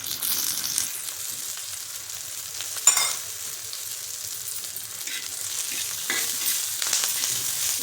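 Green chillies cut into pieces fry in hot oil with a steady, close sizzle and scattered sharp pops and crackles, with no talking.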